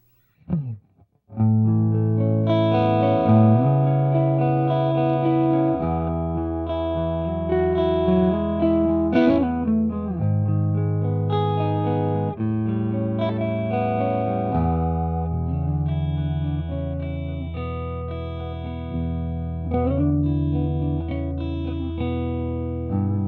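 A thick, warm overdriven electric guitar rings out alone through a MESA/Boogie Roadster tube amp on channel 2 fat mode at 50 watts with tube rectifier, playing sustained chords and single notes with a full, saturated tone.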